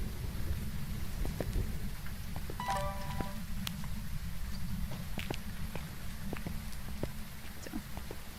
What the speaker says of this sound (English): The rain sounds so quiet.